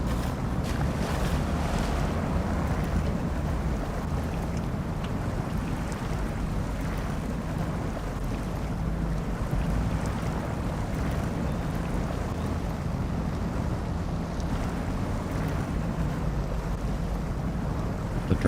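A truck drives through a muddy water crossing in the video game SnowRunner, with a loud continuous low rumble of engine and churning water that stays steady throughout, heard with no talking.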